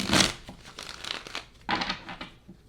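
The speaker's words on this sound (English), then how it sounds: "One more shuffle for group 3 for this new moon in June." Tarot cards being shuffled by hand, close and fairly quiet: papery riffles and crinkly rustles in two main bursts with softer shuffling between.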